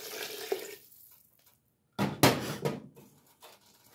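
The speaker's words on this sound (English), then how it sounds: "I'm adding the water." Water is poured into a stew pot for lemon tarragon chicken stew, a short gush following a quiet gap, then splashing that tapers off in a few bursts.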